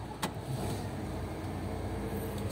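A Liebherr 1120 mobile crane's engine starts with a brief crank and then settles into a steady, loud, close diesel rumble that holds for a couple of seconds.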